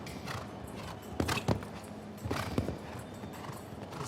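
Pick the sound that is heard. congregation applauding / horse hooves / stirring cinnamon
horse hooves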